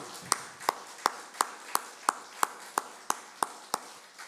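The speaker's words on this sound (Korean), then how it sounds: "큰 박수로 환영합니다." Hand claps during a church service welcoming guests: evenly spaced, crisp single claps at about three per second, sounding from one clear source rather than a full crowd.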